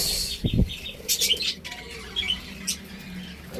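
A frightened bird takes off in a quick burst of loud, close wing flaps, followed by a few more flutters and scattered chirps and squawks.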